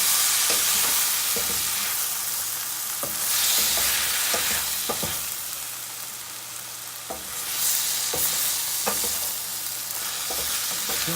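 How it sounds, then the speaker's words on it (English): Steamed tofu fries in a pan for an Indian tofu curry, a steady broadband sizzle with repeated scraping clicks and knocks from stirring, close and fairly loud throughout. "We just fry it for 1 minute, then we can add the gravy to this."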